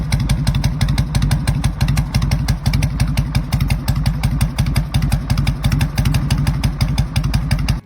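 A vintage Harley-Davidson Shovelhead FLH motorcycle engine runs close by, with a loud, even, lumpy thumping beat and mechanical clatter that holds steady throughout with no talk.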